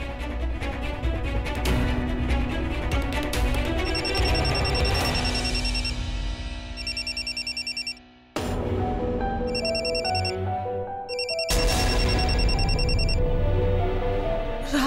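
Repeated electronic phone ringtone, a steady patterned ring that cycles through bursts over a musical background, loud and continuous while a woman calls Raj, with one brief dropout midway.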